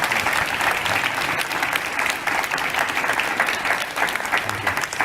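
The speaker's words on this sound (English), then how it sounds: "can we just give these guys an incredible round of applause?" Sustained applause from a summit audience fills the room, dense and steady throughout with no pauses, a few faint voices mixed into the crowd.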